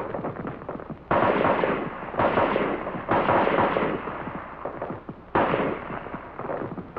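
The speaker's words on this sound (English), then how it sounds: "For your rapid fire zero, you fire 3 groups of 3 rounds each." Rapid strings of M14 rifle rounds fired on a USMC marksmanship range, loud sharp cracks in several bursts with brief gaps between them, no talk.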